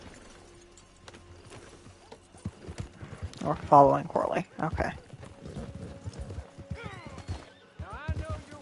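A horse in the Western video game Red Dead Online neighs loudly midway, with clip-clop hoofbeats around it and speech from several voices over the scene.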